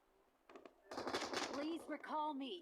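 Gunfire in the mobile battle-royale game PUBG Mobile: a quick burst of shots, then sustained automatic fire, with a voice speaking over it.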